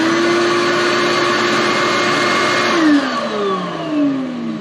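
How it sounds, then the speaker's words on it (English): An old shop vacuum runs loud and close with a steady whine, then winds down partway through as its pitch falls away. "And then the old shop vac."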